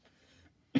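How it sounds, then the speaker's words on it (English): A single sharp cough from a person with a cold bursts out near the end, loud and close, after a stretch of quiet low murmur. "you won't have to worry about me coughing every time"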